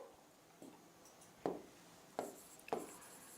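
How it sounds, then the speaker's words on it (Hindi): A pen scratches across a paper map during a Class 10 map-labelling lesson, with four short, quiet strokes spaced apart against a near-silent background. "यहाँ पे मैं लिख देती हूँ"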